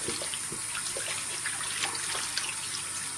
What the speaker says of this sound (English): So we're just going to wash it now with cold water.